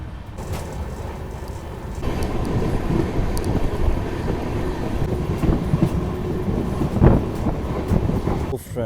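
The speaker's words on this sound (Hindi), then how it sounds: "96 की स्पीड में चल रही है हमारी ट्रेन फिलहाल अभी" The Swarn Nagari Express runs on rails at about 96 km/h between Jodhpur and Jaisalmer, heard from inside a sleeper-class coach: a loud, steady rumble with rattling clatter and wind noise throughout, rising slightly partway through.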